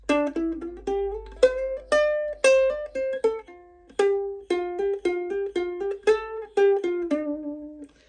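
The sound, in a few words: guitar riff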